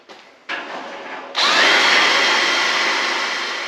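A power drill bores holes while building a cheap hunting blind, with a couple of short bursts and then a sustained loud whine as the bit cuts in, close up.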